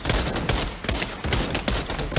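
Rapid gunfire in the WW2 shooter Pavlov, Gewehr 43 rifle heard in a dense burst of close, loud shots, some overlapping, with a brief gap midway before firing resumes.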